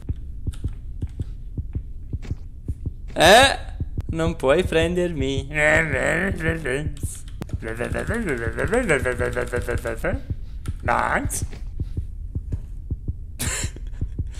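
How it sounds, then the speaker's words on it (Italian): Heartbeat sound effect in the video game Granny, low rhythmic thumps running steadily beneath someone talking, with a few sharp bursts of game noise in between. "Come mai sento un battito cardiaco così all'improvviso?"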